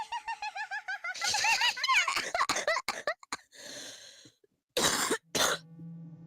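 A girl's unnerving laugh breaks into several harsh, close coughs in a horror visual novel scene set in a kitchen. Choppy laughing syllables run first, then raspy coughs and throat noises, with silent gaps between the last bursts.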